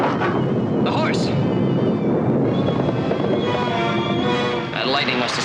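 Thunder from a lightning storm rumbles as a loud, sustained roar filling the whole stretch, with brief rising whooshes over the top.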